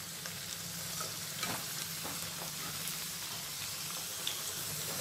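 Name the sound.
sweet corn frying in oil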